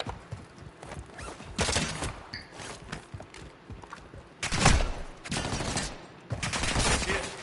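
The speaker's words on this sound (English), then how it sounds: "You are taking effective fire." Bursts of gunfire in the Call of Duty DMZ video game crackle in rapid volleys, loud and dense, with short pauses between bursts of shooting.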